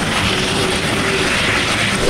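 A helicopter on a sightseeing flight over the Great Barrier Reef in Australia sets down for landing, its engine and rotor drone loud, steady and close throughout.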